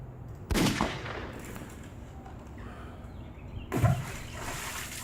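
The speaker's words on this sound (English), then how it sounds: "With this new Red Ryder BB gun, Orange Ryder BB gun, let me show you what you can do." A Red Ryder BB gun fires two separate shots a few seconds apart, each a sharp, fairly close pop standing out against a quiet outdoor background.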